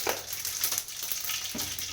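Mustard seeds splutter in hot oil in a pan, giving close crackling pops over a frying hiss.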